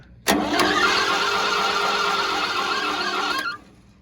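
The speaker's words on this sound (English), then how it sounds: "see how good it spins over with the starter." A starter motor cranks the engine of a previously locked-up International B414 tractor with a loud, steady whirring grind for about three seconds, then stops; it never catches.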